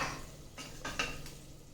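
A spoon stirs leftover spice mix into vegetables in a pan for Gujarati sambhariyu shaak, producing three or four close, quiet scraping strokes against the metal over a faint sizzle.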